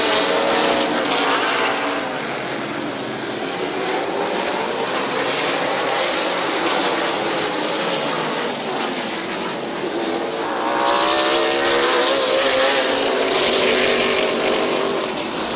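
Race cars roar around Midvale Speedway during a 2019 race, a loud continuous engine drone that swells and fades as the pack passes nearby, with a fresh surge of engines near the end.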